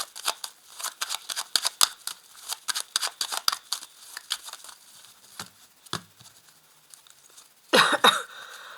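A deck of tarot cards being cut and handled, a rapid run of crisp papery clicks and flicks at close range, thinning out midway, then a brief louder riffle near the end.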